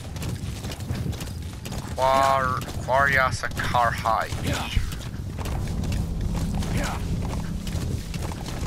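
Rhythmic clip-clop of horse hooves in Metal Gear Solid V: The Phantom Pain, running steadily beneath a voice talking in the middle of the clip, with background game ambience.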